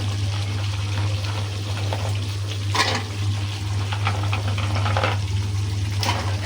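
Small potatoes and jackfruit seeds, the seeds first rubbed on a grinding stone, sizzling steadily in hot oil in a pan for a beef curry, with a constant low hum beneath and brief louder crackling bursts.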